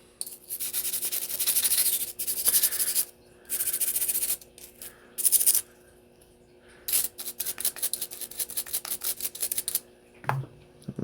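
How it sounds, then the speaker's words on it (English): The base plate of a Rock Island M1911 A1 magazine is scrubbed with a brush in several short bursts of close, dry bristle scratching separated by pauses, ending with a few quicker strokes. "So we'll take the base plate here to the mag and we will just give everything a quick scrub down."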